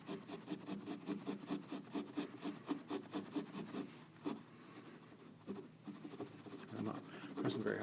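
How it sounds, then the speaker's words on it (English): A wet rag rubs lightly over the tolex covering of a Fender 4x12 guitar speaker cabinet, making soft, rhythmic back-and-forth swishing strokes up close that pause briefly partway through and then resume. "I'm not pressing very hard, I'm just kind of rubbing lightly."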